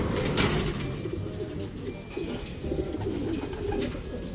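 Pigeons coo at a loft with soft low repeated coos running continuously, fairly close, under a faint background hiss with a brief high chirp early on.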